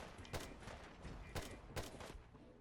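Three sharp rifle shots fired in Fallout 4 on survival mode with a modded rifle, each a hard crack with a quick decay, spaced irregularly over a low background rumble.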